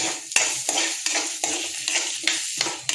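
Seeds and curry leaves fry on low heat for sambar under a continuous close sizzle, while a spoon stirs and scrapes the pan in regular strokes roughly every third of a second.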